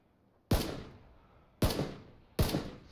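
Three loud single gunshots ring out in the video game PUBG, each a sharp crack with a fading tail, spaced about a second apart.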